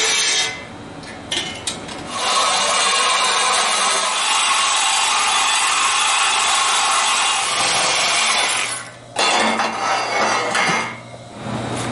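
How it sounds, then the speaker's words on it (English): Power cutting tool slicing through a stainless steel exhaust header flange on a car, a loud sustained grinding-saw whine running for about six seconds, then stopping briefly and resuming in shorter bursts. "I'm going to pull this driver's side header off, cut the flange loose, and mock this side up"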